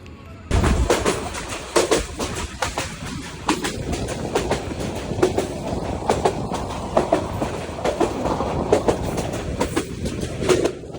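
Kishorganj Express passenger train running on the line, heard from onboard as a continuous loud rumble with regular clickety-clack wheel beats throughout.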